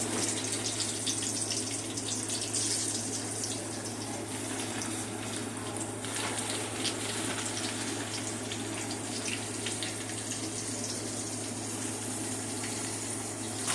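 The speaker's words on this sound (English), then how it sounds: "I'm just going to put them in the oil and let them fry." Shrimp frying in hot oil for crispy fried prawn bites, a steady, even sizzle that continues without a break, with a low hum underneath and no talking.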